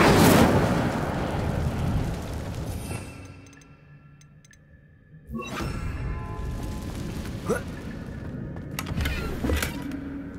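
A fire spell cast in Hogwarts Legacy bursts out as a loud roaring whoosh, fades into near quiet, then flares again with crackling bursts over steady game ambience.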